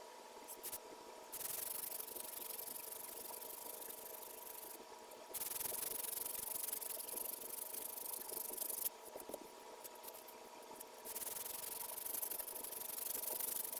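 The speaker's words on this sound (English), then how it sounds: "I've sanded through 2 coats of enamel so far" Hand sanding with 320 grit sandpaper rasps across enamel paint in long, steady bursts separated by short pauses, close and quiet with no talk.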